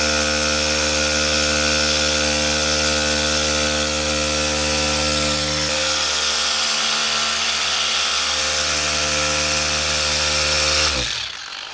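A polisher spins on Porsche 992 GT3 paint with a loud, steady motor drone and tonal hum, easing slightly midway before stopping abruptly near the end.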